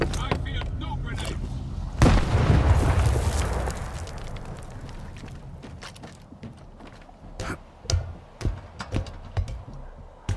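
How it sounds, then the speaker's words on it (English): A grenade blasts in S.T.A.L.K.E.R. 2 with a loud sudden boom and a rolling rumble that fades over a few seconds, followed by scattered sharp clicks and a few gunshots. "Brothers, I'm throwing a grenade."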